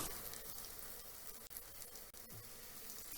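Potatoes frying in a pan over medium heat, with a faint, steady, broadband sizzle that runs quietly and continuously throughout, no voices.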